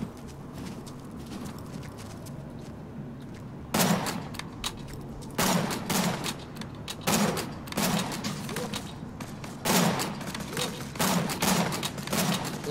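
Gunfire in the game Borderlands 2, bursts of rapid shots in several clusters separated by short pauses, loud and close over a low background.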